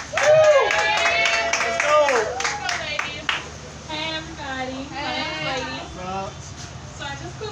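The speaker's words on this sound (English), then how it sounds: "Give it a round of applause for Lady, everybody." An open-mic comedy crowd claps loudly for a few seconds as a comic is welcomed to the stage, while whooping and cheering voices carry on after the clapping fades.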